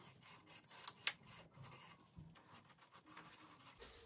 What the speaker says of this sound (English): I'm just going to take an old toothbrush and all the dirt that the chemicals lifted, we're just going to lightly brush it out.